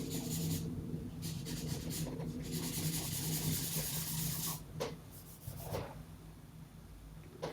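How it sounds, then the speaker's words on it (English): Drawing medium is rubbed roughly into a figure sketch on paper, making close, scratchy rubbing strokes in bursts separated by short pauses, then lighter scrapes. "kind of rubbing it in quite messily"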